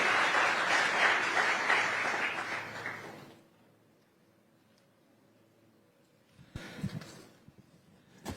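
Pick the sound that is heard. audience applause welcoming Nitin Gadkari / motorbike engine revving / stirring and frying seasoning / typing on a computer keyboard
audience applause welcoming Nitin Gadkari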